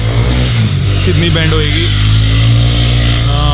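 An RC sport motorcycle accelerates through a corner on a track: a loud, steady engine drone that rises in pitch, heard close throughout with a person talking over it.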